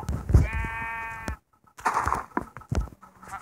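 A sheep in Minecraft bleats in short, loud, close calls, one long wavering bleat followed by a few briefer ones after a pause, with soft game noise between them.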